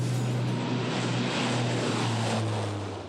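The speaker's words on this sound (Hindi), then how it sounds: "अर्जुन फॉर्मेशन में एक C-295 और 2 C-130 विमान अपने प्रदर्शन से आपको रोमांचित कर" A C-295 and two C-130 military transport aircraft fly past at the Republic Day parade on Kartavya Path, producing a loud, steady, roaring propeller drone with a low engine hum that fills the whole stretch.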